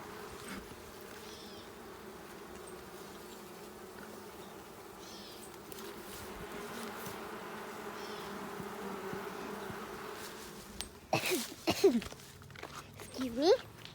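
Honeybees buzz steadily around an open beehive during an inspection, a soft continuous hum close by, with rustling and handling noises toward the end.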